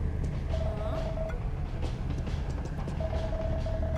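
A train rumbles steadily in the What Comes After video game, with a constant low roar, a thin whine that comes and goes, and faint clanks, with no voices over it.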